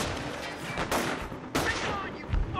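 Battlefield gunfire fills a Company of Heroes skirmish, scattered sharp shots and bursts over a constant noisy din, with a couple of louder cracks standing out.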